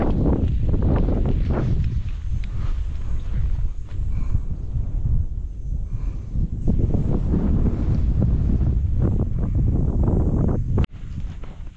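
Steady wind rushing and buffeting across the microphone on a mountain campsite at Mt Balagbag, loud and continuous, with faint rustling and a brief dropout near the end.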